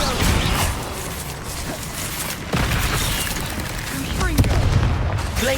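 Spell blasts from the Confringo fire spell in Hogwarts Legacy, a dense run of booming, crackling explosive bursts layered over continuous loud game noise, with a sharper impact near the end.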